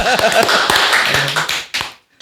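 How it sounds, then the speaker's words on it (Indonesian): A small group claps for a guest arriving on an Indonesian food vlog set, a brief burst of dense, close hand claps that tapers off and stops after about two seconds. "tepuk tangan dulu dong"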